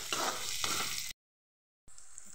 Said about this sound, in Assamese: ৰিফাইণ্ড তেলত তেজপাত এখিলা, ইলাচি, আলু, পিঁয়াজ, নিমখ, হালধি দি কম জুইত অলপ সময় ভাজি কম জুইত ঢাক মাৰি দিলোঁ